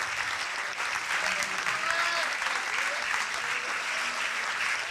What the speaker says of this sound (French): Grand applaudissement pour les 10.